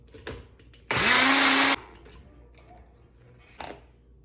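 Blender mixing chimichurri sauce of parsley and garlic in one short, loud whirring burst of under a second, with quiet clatter before and after.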